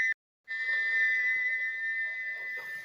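A single sustained, shrill model steam locomotive whistle blows loudly after a short gap, holding one steady pitch for a couple of seconds before tapering off.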